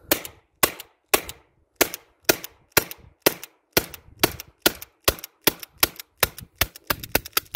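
An HDR 50 revolver fitted with a new cylinder fires a long string of sharp cracking shots, about twenty evenly spaced reports that speed up toward the end, close and loud with quiet gaps between.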